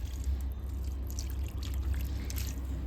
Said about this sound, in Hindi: जिस प्लांट को ज़रूरत है वहाँ पे इस तरह से आप पोर कर सकते हैं पानी